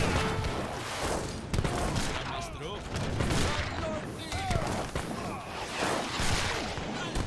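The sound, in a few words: cannon and gunfire in video game Age of Empires III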